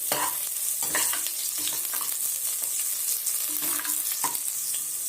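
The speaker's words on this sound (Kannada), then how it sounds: "ಎಣ್ಣೆ ಇದ್ದೀನಿ ಒಂದು ಸಣ್ಣ ಈರುಳ್ಳಿನ ಕಟ್ ಮಾಡ್ಕೊಂಡಿದ್ದೆ ಅದು ಸೇರಿಸ್ತಾ ಇದ್ದೀನಿ" Chopped small onion hits hot oil in a pan while cooking mutton curry, producing a steady close sizzle with repeated scraping stirs and clinks of a utensil.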